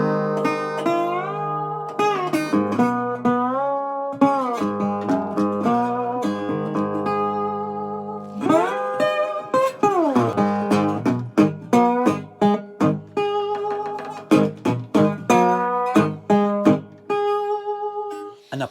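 An acoustic guitar plugged in for an amplified acoustic tone, played solo by a blues guitarist with close, bright picked notes, slides and ringing chords for a sustained stretch with no voices.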